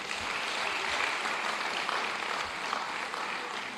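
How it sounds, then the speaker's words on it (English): Sustained audience applause at an International Women's Day conference hosted by Access Bank, a dense, steady wash of many hands clapping that carries evenly from start to finish with no talk over it. "I think they deserve a round of applause."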